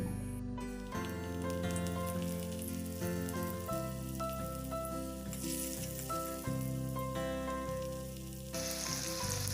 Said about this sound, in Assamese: ৰঙা হোৱালৈকে এনেদৰে ভাজি আছো